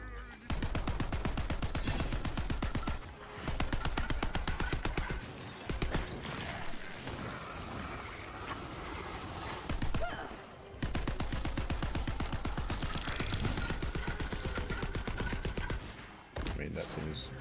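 Rapid bursts of automatic gunfire from a powerful gun in a video game, loud and nearly continuous with brief pauses, over dense game sound effects and music.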